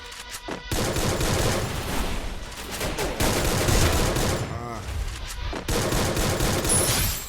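Rapid automatic fire from a Groza rifle in a PC shooter game crackles in dense, loud bursts almost without pause, with brief gaps and game effects mixed in and no talk.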